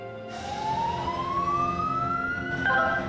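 An ambulance siren wails loud and close, its pitch sweeping steadily upward over a constant low vehicle rumble, with no one talking.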